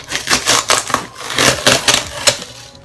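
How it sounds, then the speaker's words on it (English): A package is torn open by hand without scissors, giving a run of loud crackling rips and crinkles in quick irregular bursts. "I'm just going to rip it."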